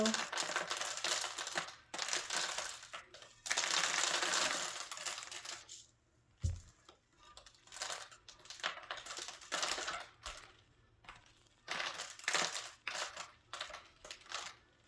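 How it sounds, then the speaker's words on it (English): Crushed glass being patted down by hand onto a vase in a DIY craft setting, giving bursts of gritty, crinkling clatter that stop and start, close and fairly loud. "So pat your glass down. If you want to put some more glass, feel free to do so."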